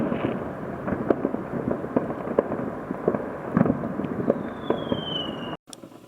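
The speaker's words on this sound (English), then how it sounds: "I can't see any of the fireworks now, but I can hear them" A fireworks barrage bursts continuously through fog over a city skyline, with dense overlapping crackles and booms, a few louder reports standing out, and a faint whistling rocket rising near the end before the sound cuts off.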